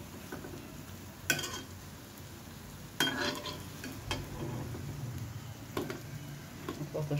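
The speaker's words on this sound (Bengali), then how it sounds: "অল্প তেলেই ভাজা হয়ে যাবে।" Bread-and-egg snack made with flour frying in a little oil in a pan, a steady soft sizzle with occasional louder scrapes and stirring clatter, close by.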